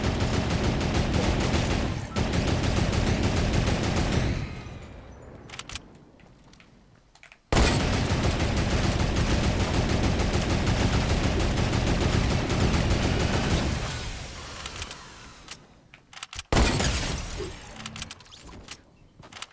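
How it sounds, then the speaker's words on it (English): A turret blasts away in the Fortnite battle royale game in long, dense bursts of rapid loud fire. The firing breaks off briefly twice and then resumes, with no voices over it. "No way, someone's using a turret."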